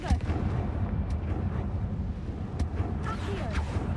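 A Confringo fire spell exploding in Hogwarts Legacy, a booming burst followed by a dense rumbling crackle of flames and debris, with a couple of sharp magical zips and whooshes layered over the blast.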